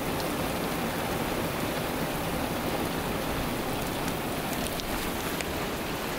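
Heavy rain pours down steadily at a campsite in northern Arizona, a dense, constant hiss of drops with scattered sharper patters on nearby surfaces, loud and close, with no talk.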